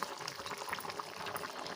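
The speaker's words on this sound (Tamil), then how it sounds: "இப்போ வந்து குழம்பெல்லாம் நல்லா கொதிச்சிருச்சு" Ridge gourd and peanut curry bubbles in a pot on the stove, giving a steady close hiss of simmering liquid.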